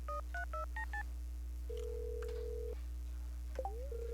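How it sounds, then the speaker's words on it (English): Telephone keypad tones in the Stardew Valley video game: a quick run of five dual-tone beeps, then a long steady ring tone and a short rising chirp, heard over a constant low game hum with no talking. "Oh, we can prank call Clunt as well."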